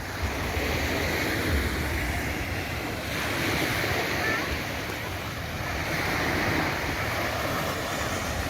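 Calm sea waves wash steadily onto the beach at Playa del Carmen, Mexico, a continuous broad surf roar with gentle swells, mixed with wind buffeting the microphone throughout.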